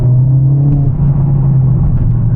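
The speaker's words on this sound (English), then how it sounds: "Oh, you get those lovely pops at the back." Mercedes CLA45 AMG engine drones loudly and steadily at close range, a deep continuous rumble with faint crackle from the exhaust at the rear.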